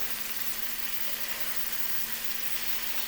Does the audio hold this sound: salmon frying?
yes